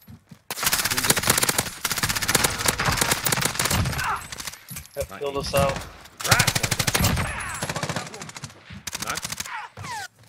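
Rapid automatic gunfire from the Warzone video game rattles in long, loud, dense bursts with brief pauses, while players talk over the shooting.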